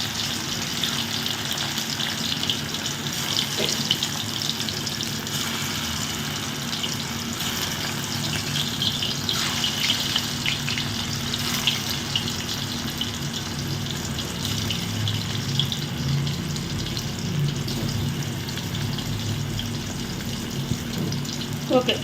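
Medium-cut chicken 65 pieces fry steadily in hot oil, giving a continuous hiss and crackle with a few louder pops. The sizzle stays moderate and even throughout.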